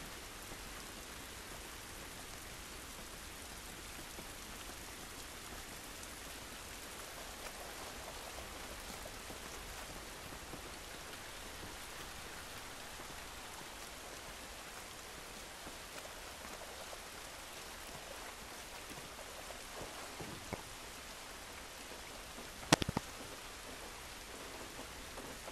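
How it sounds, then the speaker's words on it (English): Steady rain falls outdoors in the video game The Last of Us, a soft, even hiss of drops throughout, with a single sharp tap near the end. "This rain ain't gonna do us any good."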